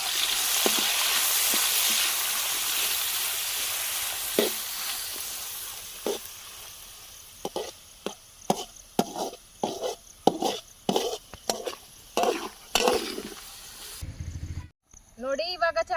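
Onion and tomato frying in a pan with ginger and garlic while making mutton chops, a broad sizzle that fades, then a run of sharp stirring scrapes and clanks, close, ending with a loud clatter.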